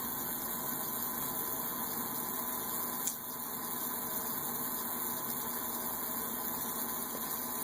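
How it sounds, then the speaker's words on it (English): A small engine runs outside, giving a steady, faint droning hum with a constant tone and no break, one brief click partway through, and no voices. "That's a small engine."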